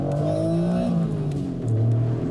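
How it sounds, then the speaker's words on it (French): An Acura NSX with its V6 revving up under acceleration, a smooth rising engine note heard from close by that climbs, eases, then settles into a lower steady drone, with no talking. "Maintenant, voyons une petite accélération."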